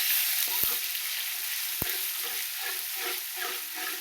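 Masala roasting and being stirred in a pan for a spicy curry, with a steady close sizzle, soft scraping swirls and a couple of sharp spoon knocks against the pan.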